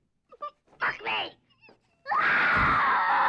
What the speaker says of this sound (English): The non-stop baby cow dying sound you hear through the walls